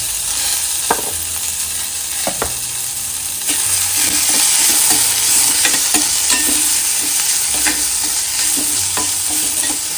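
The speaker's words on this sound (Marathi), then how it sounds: "कांदा टोमॅटो असं तेलात छान परतून घेतल्यानंतर" Onion and tomato sauté in oil with a loud, continuous sizzle, while a spatula repeatedly scrapes and knocks against the pan in an irregular stirring rhythm.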